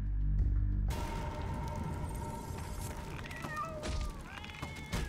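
A cat fights and meows loudly close by, a sustained yowling caterwaul with sharp, rising cries over steady background noise and occasional thumps, with no speech.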